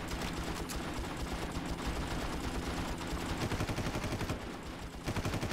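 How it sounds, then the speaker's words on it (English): Sustained gunfire in the Far Cry video game, aimed at a helicopter, fills the scene as a dense, continuous rattle with rhythmic bursts growing sharper toward the end; a brief exclamation is heard. "Let's just keep shooting on the heli itself."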